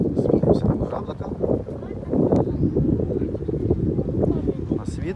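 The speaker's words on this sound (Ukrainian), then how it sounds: "У нас вітер і починається дощик зараз." Wind buffets the microphone outdoors by the water where a carp bait boat is working, a rough, continuous rumble with a voice talking underneath.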